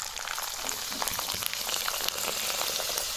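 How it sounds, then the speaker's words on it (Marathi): Thin yellow rice papad frying in hot oil, a dense, steady crackling sizzle with rapid popping bubbles throughout, close and fairly loud with no voices. "तुम्हाला आता मी पिवळ्या कलरचा पण पापड तळून दाखवते"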